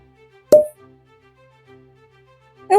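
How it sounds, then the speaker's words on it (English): A single sharp pop of a small synthetic cork pulled from a whiskey bottle rings out in a quiet room, followed by a faint hum and another abrupt sound at the very end. "let's listen for a cork pop"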